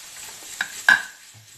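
A marinade of garlic, lemon juice and olive oil stirred in a bowl, with a couple of quick clinks and swishes standing out against near quiet.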